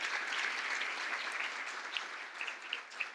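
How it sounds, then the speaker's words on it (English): Applause from an audience at a philanthropy luncheon, a continuous wash of clapping heard from some distance at fairly low level, with a few sharper claps standing out near the end. "please give a round of applause for those sponsors"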